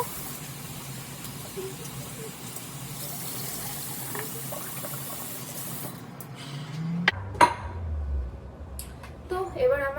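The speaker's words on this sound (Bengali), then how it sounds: "আর এখন আমি অনিয়ন্স অ্যান্ড বেল পেপারটা ধুয়ে নেব" Onions and bell peppers rinsed under a running kitchen tap, a steady close water spray filling the first half, then clattering handling and brief knocks as the flow stops.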